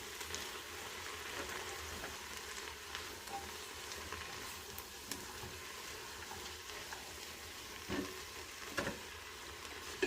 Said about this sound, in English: So I'm going to go ahead and stir that in.